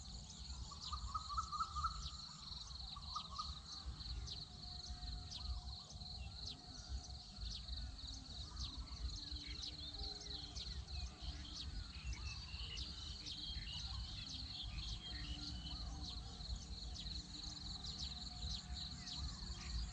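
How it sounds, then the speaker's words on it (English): Outdoor ambience of crickets and insects buzzing continuously, with scattered bird chirps and calls in the distance, steady and fairly quiet throughout. "All I can hear is all the birds, all the wildlife around me."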